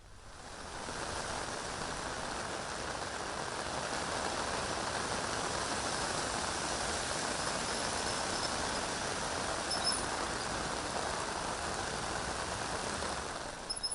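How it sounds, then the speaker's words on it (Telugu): Heavy rain falls steadily across Hyderabad, a constant, even hiss of downpour with no breaks or voices, fairly faint and distant. "అబ్దుల్లాపూర్ మెట్లలో భారీ వర్షం కురుస్తోంది"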